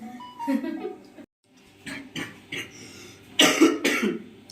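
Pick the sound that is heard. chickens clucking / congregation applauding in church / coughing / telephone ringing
coughing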